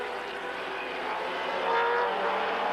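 Can-Am race cars at Mosport Park in 1985 roar past close by, a continuous high-revving engine drone that swells slightly toward the end.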